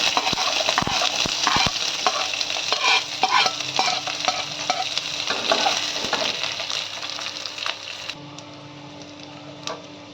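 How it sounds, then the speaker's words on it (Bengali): Chopped onion and a slit green chilli fry in a pan for a potol bhorta, a bright close sizzle with repeated sharp clicks and scrapes of stirring, easing to a softer sizzle near the end. "পেঁয়াজটা একটু সময় ধরে ভাজতে হবে।"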